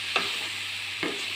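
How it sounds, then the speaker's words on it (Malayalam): Ripe banana is mashed in a sizzling pan, two short scraping presses of a spoon over a continuous soft fry. "പഴം ഒന്ന് ഉടച്ചു കൊടുക്കാം"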